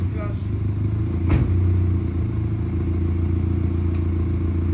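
A 1990 Mazda Miata with a newly replaced fuel pump runs with a steady, loud engine drone. The engine holds a fairly even note with a sharp clunk near the start, and no voices are heard.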